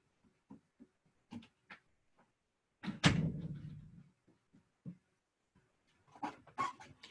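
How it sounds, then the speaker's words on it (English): A door is pushed shut in a home office, a single solid thud with a brief ringing tail amid faint shuffling and small bumps before and after. "I've got to shut my door."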